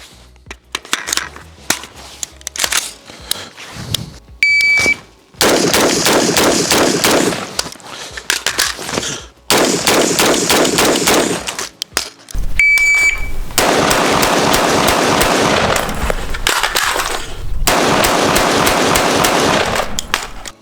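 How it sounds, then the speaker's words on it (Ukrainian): Loud, sharp carbine gunshots fired in rapid repeated bursts of six, close and dominant, with brief pauses between strings of shots and no talking. "знову стріляємо 6 пострілів"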